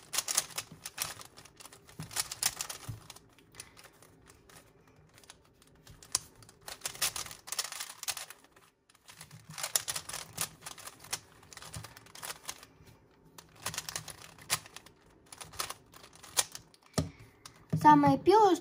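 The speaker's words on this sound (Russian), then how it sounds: "Теперь вы можете кубик 3 на 3 разобрать. Просто рандомно его крутить." A 3x3 Rubik's cube twisted at random to scramble it, rapid plastic clicking and rattling in bursts with short pauses, close and fairly loud, a voice briefly heard at the end.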